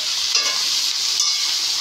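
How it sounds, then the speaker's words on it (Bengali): Bengal arum leaves frying in a pan give a close, steady hissing sizzle, briefly swelling twice as they are stirred. "একটু ভাজা ভাজা হোক"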